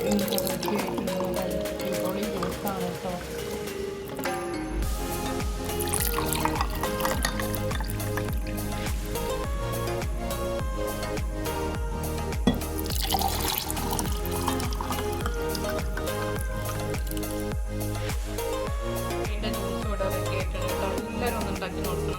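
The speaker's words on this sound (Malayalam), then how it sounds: "ഇപ്പോൾ നമുക്ക് സർവിങ് കാർട്ടിലേക്ക് ഒഴിച്ചു കൊടുക്കാം" Roselle drink is poured into a serving glass, a steady liquid stream and filling sound running throughout, with a person talking over it and some background tones.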